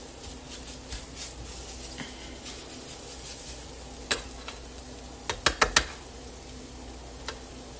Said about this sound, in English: I'm scraping all these eggs